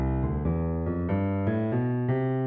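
Piano playing a scale in swung sixteenth notes, a steady run of about eight clear notes with a lilting long-short feel, close and solo with no talking.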